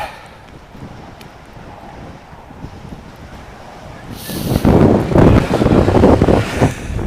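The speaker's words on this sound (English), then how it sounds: "It's a bit windy" Wind buffets the microphone beside a pond in Reykjavik, a steady rush that swells into loud, roaring gusts in the second half.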